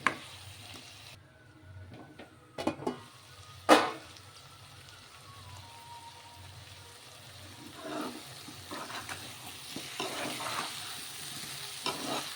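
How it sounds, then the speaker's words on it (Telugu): Masala sizzles in a pan for a drumstick and egg curry, a low steady frying hiss with a few sharp utensil knocks early on and softer stirring scrapes later, close by, with no speech. "ఇంకో 2 నిమిషాల పాటు ఫ్రై చేసుకుందాం"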